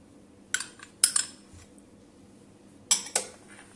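A spoon clinks against a bowl while yogurt, cooking oil and spices are mixed into a marinade for fried quail: a few sharp metallic taps and scrapes in two short bursts, close by, separated by quiet.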